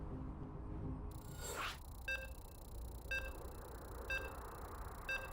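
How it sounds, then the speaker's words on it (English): A short whoosh, then four evenly spaced electronic beeps about a second apart over a low background hum, moderately faint, as a video game loads during an esports tournament. "Okay, you can hear the beeps."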